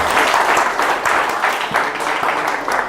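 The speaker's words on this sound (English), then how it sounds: "Can you give yourselves a round of applause?" An audience at a coding bootcamp demo day in Tokyo applauds, a dense, even wash of many hands clapping close and loud for the full stretch.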